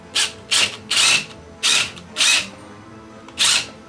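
Power drill driving small screws into a life-sized framed skeleton, heard as six short whirring bursts, each about a third of a second, separated by brief pauses, close and fairly loud with no talk.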